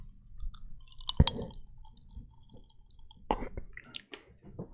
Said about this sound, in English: It's weird when you chew it, because it sounds like it's like in my ears.